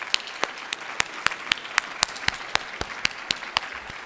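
Audience applause at an awards ceremony, a steady sustained clapping with sharp individual claps standing out at a regular beat throughout, no voices over it.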